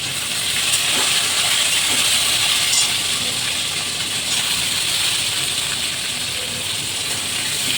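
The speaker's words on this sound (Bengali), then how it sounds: "আমার ফোড়ন ভালো করে ভাজা হয়ে গেছে, আমি এবার তরকারিগুলো দিয়ে দিচ্ছি। আলু পটল" Diced potato and pointed gourd hit hot oil with tempered spices in a pan, giving a loud, steady broadband sizzle and hiss that holds for the whole stretch, with a few faint clinks.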